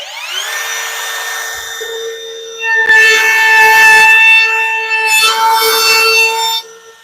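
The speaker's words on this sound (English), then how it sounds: "I think it's because it's a brushless motor." Brushless Craftsman power tool motor whines up to a steady high-pitched run, then holds loud with shifting pitch for several seconds before cutting off abruptly.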